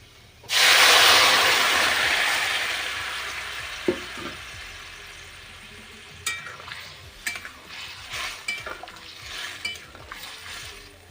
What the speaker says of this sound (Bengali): আমার পেঁয়াজটা এখানে ভাজা হয়ে গেছে এবার আমি এর মধ্যে তরকারিটা কিন্তু ঢেলে দেব